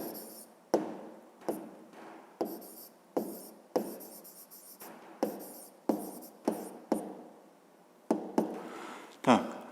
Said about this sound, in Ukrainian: Добре, ми записали коротку умову, тепер записуємо розв'язання.